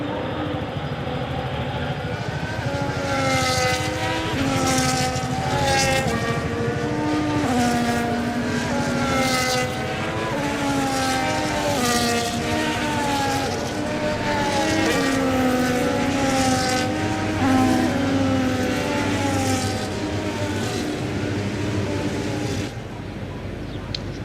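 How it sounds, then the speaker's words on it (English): Formula 1 race cars in F1 25 idle and rev steadily as they line up on the grid at the Mexico race, a continuous layered engine drone with wavering pitch under faint background sound and no talk. "As the cars come back towards the grid to line up for the start of the race"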